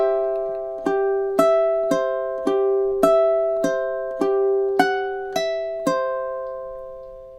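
Two measures of a relaxing fingerstyle ukulele tune are played through at an even pace, with about a dozen plucked notes ringing into each other, close and clear with no voice.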